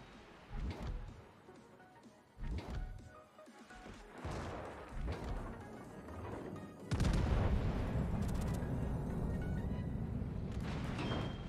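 Heavy battleship guns firing armour-piercing shells in the World of Warships naval game, for the French Dunkerque battleship, boom out in several loud separate blasts, followed by a sustained roaring rumble of gunfire and explosions.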